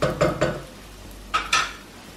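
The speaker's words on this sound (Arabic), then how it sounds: "على نار عاليه بقى هنفضل نقلب كده في الرز لحد ما يبقى كله لونه شفاف" Rice is stirred in a pot over high heat, giving five distinct scraping, sizzling strokes: three quick ones close together, a pause, then two more, each close and fairly loud.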